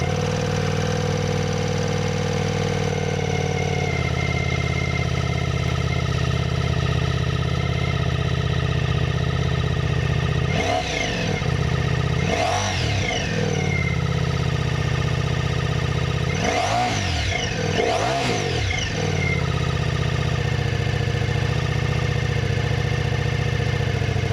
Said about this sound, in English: if you wanna hear how the 2026 XDiavel sounds